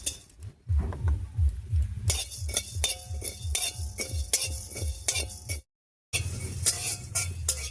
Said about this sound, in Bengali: এবারে শুকনো খোলায় একটুখানি মশলা ভেজে নেব